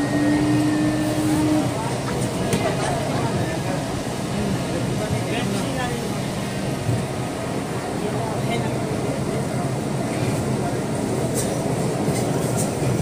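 An underwater metro train running beneath the Ganges in India, heard from inside the carriage as a loud steady low rumble and rolling roar with faint squeals, continuous throughout.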